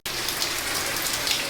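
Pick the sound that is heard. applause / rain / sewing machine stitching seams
rain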